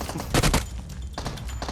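Shotgun fire in PUBG Mobile comes as a loud burst of close blasts, several shots in quick succession followed by a shorter pair after a brief pause.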